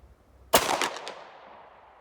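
A single loud, close .45-70 rifle shot from an 1885 High Wall firing powder-coated bullets: a sharp blast after quiet, then a ringing echo that fades over about a second and a half.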